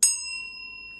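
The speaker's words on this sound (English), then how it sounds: "I'm going to go ahead and ring the bell in 3," A single bright bell strike rings out close and clear, its metallic tone sustaining and slowly fading for about a second.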